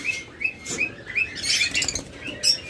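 Caged lovebirds and budgerigars chirp in quick, bright bursts, close and fairly loud, over a soft rustle of flapping wings. No one speaks.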